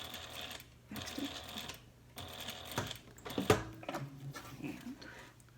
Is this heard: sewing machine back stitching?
yes